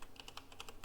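Quick keystrokes on a computer keyboard as a Google search is typed, about eight light clicks in under a second, close and alone.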